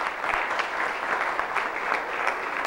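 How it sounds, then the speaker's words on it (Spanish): An audience at a Puerto Plata tourism talk bursts into steady, dense applause, a continuous wash of many hands clapping at even loudness with no voices over it. "vamos a darle un fuerte aplauso a Manny Burgos"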